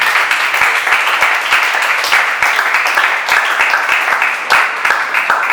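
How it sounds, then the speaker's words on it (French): Studio audience on a French quiz show gives sustained applause with dense, steady clapping throughout, loud and close, continuing without any talk over it. "Un tonnerre d'applaudissements, s'il vous plaît."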